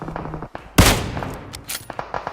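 Gunfire in the mobile battle-royale game PUBG Mobile, a loud sharp burst near the middle followed by scattered shots and crackling reports, with no talking.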